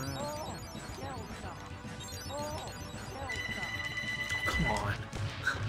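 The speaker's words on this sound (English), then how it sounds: "Ignore the ringing. That's just a house phone." A landline house phone rings nearby in bursts during the second half, under steady talk and background noise from a SNES Teenage Mutant Ninja Turtles game.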